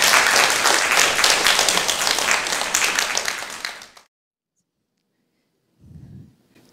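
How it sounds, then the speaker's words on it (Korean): An audience at a talk applauds to welcome an author: dense, loud clapping from many hands for about four seconds, then it stops abruptly and silence follows, broken only by a brief low thump. "홍지수 작가님, 큰 박수로 환영해 주시면 감사하겠습니다"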